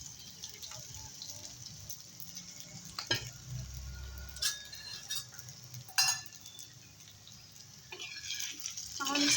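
Sabudana khichadi is stirred in a pan, with scraping and clinking of the spoon over a soft sizzle, in irregular bursts under intermittent talk.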